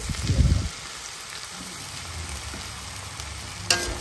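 Boiled plain rice tipped into a hot frying pan for fried rice: a loud scrape and tumble at the start, then a low steady sizzle with faint stirring scrapes and a sharp clink near the end.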